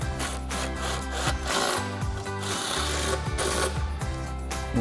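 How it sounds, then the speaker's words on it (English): An impact wrench with a 13mm socket tightens the front bolts on a 2015-2025 Ford Mustang front mount during a lowering-spring install. It gives a continuous buzzing, rattling hammer in several close, loud bursts. "Now we'll grab our impact and 13mm socket. We'll tighten our front two down first."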